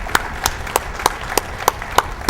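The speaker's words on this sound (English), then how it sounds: "let's give our board and our superintendent and his team a round of applause" A school awards audience claps for the board and superintendent: a few sharp, evenly spaced claps at a steady rhythm, close and fairly loud, with a low murmur beneath.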